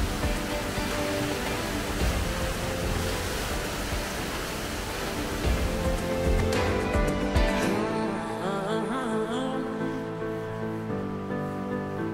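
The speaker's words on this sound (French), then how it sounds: "On arrive à une première cascade nichée dans des gorges." A waterfall in a river gorge in Slovenia pours with a steady, dense rushing hiss, its roar prominent for the first half before easing, with background music playing throughout.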